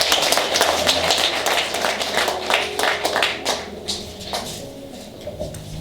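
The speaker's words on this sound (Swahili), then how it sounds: "Tupigie Bwana makofi tena." Wedding guests clapping together in a church ceremony, a dense burst of hand claps that starts loud and gradually thins and fades over several seconds, with faint background noise.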